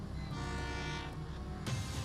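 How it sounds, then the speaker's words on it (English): A train draws into a station with a steady rumbling roll and tonal horn-like whine that holds throughout, then a sudden louder burst near the end, heard without talking. "here comes the train"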